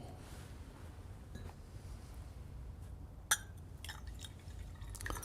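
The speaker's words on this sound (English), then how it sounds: "I'm just putting a little bit more water into this one" Water drips from a small pour into a glass of Strathisla cask strength single malt whisky, giving a few faint, sparse drips and clinks in a quiet room, one sharper tap standing out midway.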